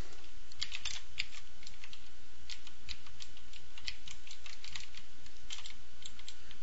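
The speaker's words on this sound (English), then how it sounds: "Start over with the typing." Keys on a computer keyboard are typed in quick irregular bursts, crisp clicks over a low steady hum, with no talking.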